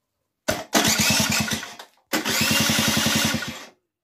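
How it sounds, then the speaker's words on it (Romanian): A Rizzato Atala two-stroke scooter engine under repair, heard in two separate bursts as it fires and revs with a rapid, buzzy putter close by, each burst cutting out abruptly. "Mamă, ce trage motorul"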